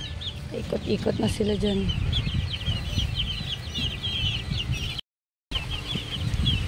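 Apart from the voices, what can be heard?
chickens clucking in a small coop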